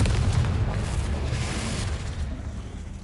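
Confringo blasting spell from Hogwarts Legacy bursts in a heavy booming explosion, a deep rumbling blast that swells and then slowly decays over a few seconds.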